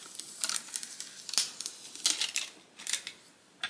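Adhesive backing being peeled off in a craft room, a series of short, close crinkly rips and papery crackles in uneven bursts, fairly quiet.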